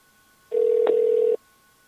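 A single ring tone sounds as an outgoing phone call connects, one steady tone lasting just under a second, alone against near silence.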